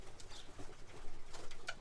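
Young pigeons at their loft give faint, soft coos and a few low calls, with quiet rustling around them.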